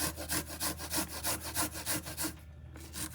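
A very sharp kitchen grater shreds food, likely onion, in a steady back-and-forth rhythm of about a dozen close, rasping strokes, with a brief pause near the end before one more stroke.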